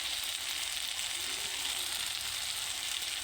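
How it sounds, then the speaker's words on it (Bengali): Onions, chillies and tomatoes sizzle steadily in a hot pan with oil, a continuous soft frying hiss with no talk, while salt, turmeric and chilli powder go in for a Bengali shol fish curry. "তো এখন পেঁয়াজ মরিচ টমেটোগুলো আর কি ভালোভাবে আমি ভেজে নেব।"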